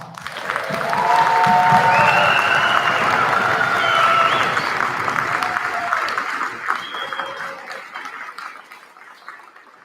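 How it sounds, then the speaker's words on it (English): An audience in the stands gives a loud round of applause for a band at a school Christmas concert, sustained clapping with scattered cheers that gradually fades, and a voice speaking over it. "I think these folks deserve one more loud round of applause."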